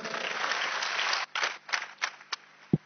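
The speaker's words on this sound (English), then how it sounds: "Are you clapping for Jesus?" A church congregation claps during a Sunday service, sustained applause that thins out into a few scattered claps before stopping.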